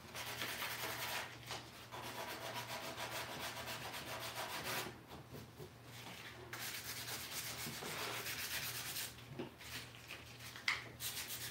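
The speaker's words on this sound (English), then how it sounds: "One reason I like the wet sanding method better is it is sanding free, so a lot less mess" Wet sanding of a wooden Art Deco magazine rack gives soft, continuous rubbing strokes that are quiet and close, broken by a few short pauses.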